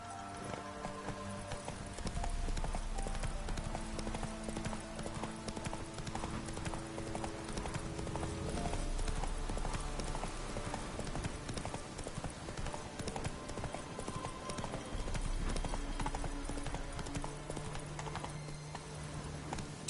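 Geralt's horse Roach galloping in The Witcher 3, a loud steady clip-clop of hooves running continuously over game music and ambience.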